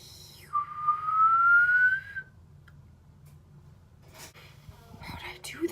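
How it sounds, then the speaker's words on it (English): One person whistles a single sustained note that slides slowly upward for about two seconds, close and clear, followed by quiet breathing and a faint voice. "I literally just whistled."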